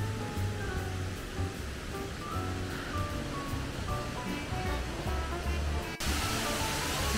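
Steady roar of a mountain waterfall at Wulai, Taiwan, a constant broadband rush of falling water heard from a moderate distance.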